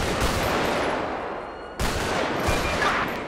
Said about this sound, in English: you guys already know it's a shotgun